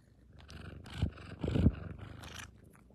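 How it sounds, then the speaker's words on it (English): A kitten purrs close by, a low rumbling buzz that swells and fades in soft waves, faint and quiet throughout. "Oh, this kitten purrs a lot."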